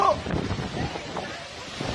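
Gusty wind roars and rushes during a storm at a village school in Nong Chan, Thailand, with uneven surges and a faint voice now and then.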